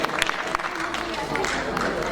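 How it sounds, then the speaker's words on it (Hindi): Audience applause at a Hindi literary award ceremony, a steady wash of many hands clapping through the whole stretch, fairly close and dense, with no distinct voices on top. "एक बार तालियों के साथ हम अभिनंदन करें"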